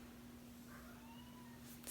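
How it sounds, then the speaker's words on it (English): A house cat meows briefly and faintly once, a short plaintive call from the cat heard alone in a quiet indoor room. "before my cat starts meowing again because she wants attention"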